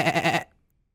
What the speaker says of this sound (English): you hear something distant and faint, a sort of bleating,